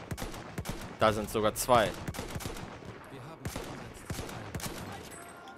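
Gunfire in the Battlefield 1 multiplayer video game: scattered shots and distant rattling bursts run under a voice speaking German commentary.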